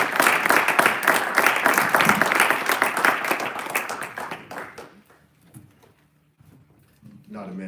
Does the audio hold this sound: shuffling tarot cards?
no